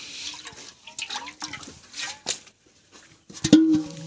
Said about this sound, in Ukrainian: Так, водичку зараз заміню.